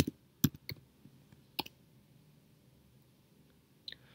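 A command typed on a computer keyboard during a terminal session on Ubuntu, a handful of sparse, isolated key clicks spread over a few seconds, quiet and close with no voices.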